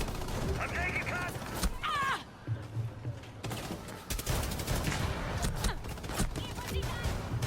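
Rapid bursts of gunfire fill a Rainbow Six Siege Extraction match, dense and continuous with a brief lull, under excited player talk and game effects.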